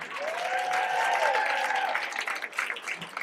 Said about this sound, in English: Don't forget the applause cue.